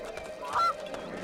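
Chickens in the fantasy game Two Worlds, a single short honking squawk standing out briefly above a low ambient bed, fairly close and alone.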